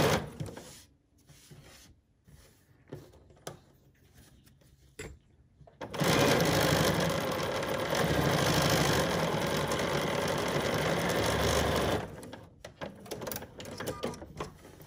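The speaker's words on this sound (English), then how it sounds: "And I'm just gonna sew a little." A sewing machine stitching fabric for a Tula Pink pincushion clutter catcher: a few soft handling taps first, then about six seconds of loud, steady, close mechanical whirring before it stops and quiet clicks follow.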